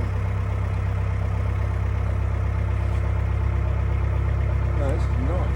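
A Marathon boat's engine drones as a steady low hum throughout the cruise, constant and unchanging, with people talking over it.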